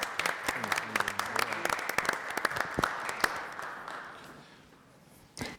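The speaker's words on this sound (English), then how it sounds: "Let's give him a round of applause." Audience applause for Congressman Donald Payne in a municipal council chamber, many sharp individual claps forming a sustained round that gradually fades over several seconds, with a brief voice near the end.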